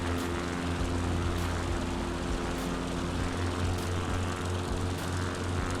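Steady, loud propeller aircraft engine drone from Microsoft Flight Simulator 2020, running at low throttle with a constant hum and no speech over it.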